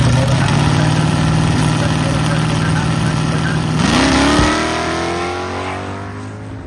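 A 1969 Dodge Coronet 440 and a 2004 Ford Mustang roar in a drag race at a charity airport drag event, loud sustained engine howl rising in pitch before fading away, with an announcer talking over it.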